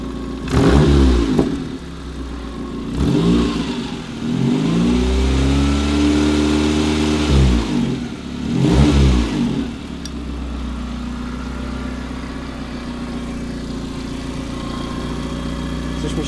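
A cogenerator generator engine runs and revs in repeated surges, rising and falling roughly every few seconds before settling into a steady hum, close and loud with no talking.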